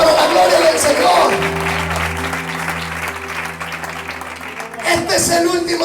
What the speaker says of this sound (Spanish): Dale un fuerte aplauso para la gloria del Señor.